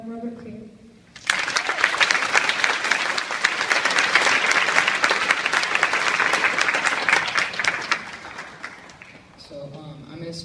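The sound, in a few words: audience applause welcoming a Navy veteran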